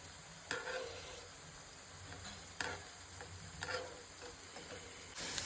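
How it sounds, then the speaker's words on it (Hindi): Cabbage pakoras deep-frying in mustard oil give a steady, fairly faint crackling sizzle, broken by a few sharper clinks and stirring knocks near the start, middle and end. "यहाँ मेरे पत्ता गोभी के पकोड़े फ्राई हो रहे हैं ना।"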